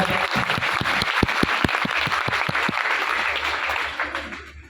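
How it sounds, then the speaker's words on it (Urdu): An audience at a meeting of a Punjab land-records officials' association claps, with distinct sharp individual claps at first that merge into a general round of applause before gradually fading out. "تو ان کے لیے ذرا تالیاں زور سے لگا دیں"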